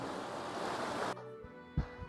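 Rushing water of a mountain stream flowing downhill toward Nako lake near Nako, Himachal Pradesh, a loud broadband roar for the first half before it cuts away to a quieter scene with a few soft thumps.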